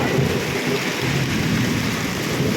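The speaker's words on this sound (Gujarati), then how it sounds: "કડાકા ને ભડાકાનો અવાજ સાંભળજો. જો વીજળી પણ થાય છે જબરજસ્ત. જોઈ લેજો વરસાદ" Heavy monsoon rain pours down without a break in a village in Khambhalia, with a deep rumble of thunder rolling underneath throughout, loud and close with no talking.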